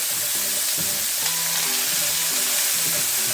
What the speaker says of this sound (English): Now I'm gonna mix it up here